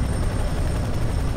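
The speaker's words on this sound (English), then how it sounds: "Helicopter!" A helicopter in the video game F.E.A.R. 3 gives off a loud, steady, dense rotor and engine roar that holds evenly throughout, close and without talk.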